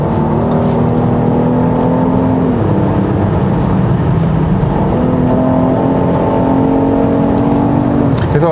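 A 2021 Genesis GV80 3.5T AWD accelerates through corners on a winding road, its engine holding a steady, loud drone with rising and falling tones as it pulls out of a bend.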